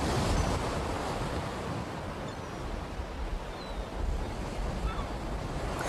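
Sea waves wash against the Moroccan coast in a continuous broad roar of surf, with gusts of wind rumbling over the microphone and no voices.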